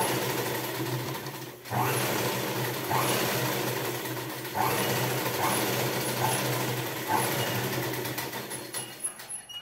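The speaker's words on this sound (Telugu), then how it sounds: "ఇక్కడ కూడా రెండు కుట్లు వేసుకోవాలి" A sewing machine stitches a blouse in steady whirring runs, pausing briefly between bursts of stitching, close and alone without talk.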